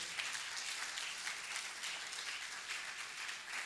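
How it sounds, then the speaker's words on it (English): Conference audience applauding, a dense, even wash of clapping from many hands that carries on steadily from start to finish. "Please, let's applaud her."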